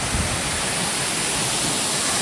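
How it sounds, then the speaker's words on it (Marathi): A waterfall near Chanderai village pours in a steady, dense roar of rushing water, loud and close, filling the short stretch without pause and with no voices. "ह्या धबधब्याचा जो प्रवाह आहे तो प्रचंड प्रमाणात असतो"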